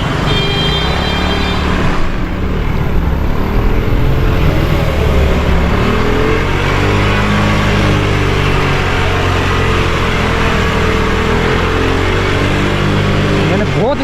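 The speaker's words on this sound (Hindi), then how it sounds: "बहुत स्पीड दी हुई है मोटरसाइकिल को रेस बहुत दी हुई है" A motorcycle is pushed at high revs through a flooded street in Karachi after heavy rain. Its engine whines steadily and loudly for the whole stretch, with pitch rising and falling, alongside nearby traffic and a faint voice.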